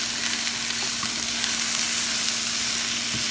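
Onions sauté in a pan with mixed summer vegetables, giving a steady, close, even sizzle and hiss with faint stirring ticks and no talking.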